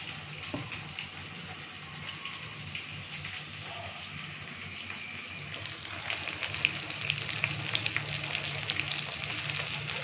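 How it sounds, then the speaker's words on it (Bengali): Spiced battered fritters with onion and chopped coriander fry in hot oil, giving a steady, soft crackling sizzle throughout with no voices. "আর দেখো এখানে ভাজা আমি কিন্তু শুরু করে দিয়েছি, কতটা খাস্তা হচ্ছে এই দেখো"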